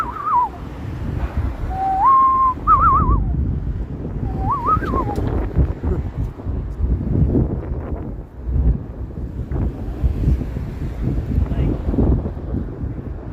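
A person whistles a loon's wavering call, imitating it in a few rising and falling phrases on a cold, windy downtown Toronto street, with heavy wind rumble and city noise throughout.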